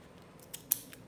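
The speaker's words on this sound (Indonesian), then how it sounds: "Gunting. Pegangin, Mami, guntingin." Scissors snip a few times during a children's play and craft session, producing three short, sharp metallic cuts close up against a quiet background.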